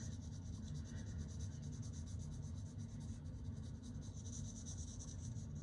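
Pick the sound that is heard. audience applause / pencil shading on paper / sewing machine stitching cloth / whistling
pencil shading on paper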